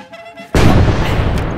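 An old cannon fires with a sudden loud boom that cuts in after a quiet moment, its heavy blast and rumbling roar filling the rest of the short stretch without fading much.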